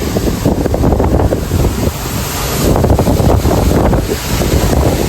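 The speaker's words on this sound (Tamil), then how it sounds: "மழை நல்ல மழைங்க" Heavy rain pours down in Gujarat, heard from a lorry during a foggy downpour: a dense, steady roar of falling water with gusty surges, loud and continuous throughout, with no talking.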